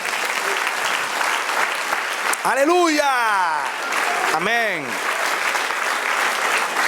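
A church congregation applauds during a Spanish-language service, dense continuous clapping filling the room, while a voice calls out briefly twice over the top.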